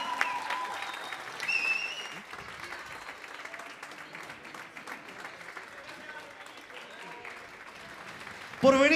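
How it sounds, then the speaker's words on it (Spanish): Moderate crowd applause after a concert at a cultural centre, continuous clapping at a steady level with occasional voices mixed in, ending in a sudden louder burst. "Un aplauso grande, fotos oficiales"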